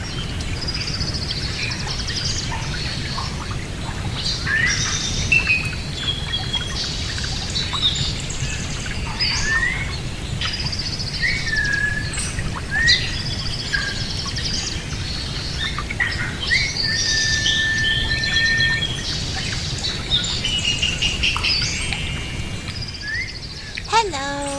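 A pet parrot chirps, tweets and calls almost without pause in bright, overlapping bursts, close by over a low steady room hum, with one brief louder squawk near the end.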